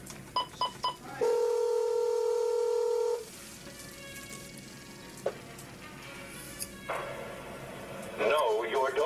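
Telephone dialing tones: a few short keypad beeps followed by a long steady tone, then quieter clicks and more tones as a phone call to the White House is placed, with some voices and line noise.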